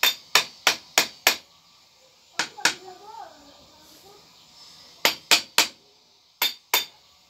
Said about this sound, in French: on va prendre notre marteau et on va frapper tout doucement